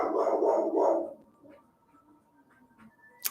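A dog gives three or so loud, close barks in quick succession, then the room goes quiet with only faint small sounds.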